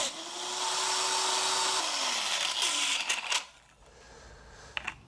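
A handheld angle grinder with a loose wheel, being tried by a first-time user while fitting lights to a Sherman tank, gives a loud whine that winds down partway through, followed by quieter clicks and handling knocks.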